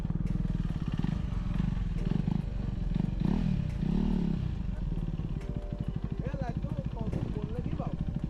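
KTM Duke 390 motorcycle engine idling and revving nearby, a steady throbbing roar throughout the clip with people talking over it.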